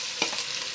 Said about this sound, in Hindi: यहाँ एक कढ़ाई में घी हमारा अच्छे से गर्म हो गया है और अब हम इसमें डालेंगे बारीक कटे हुए टमाटर।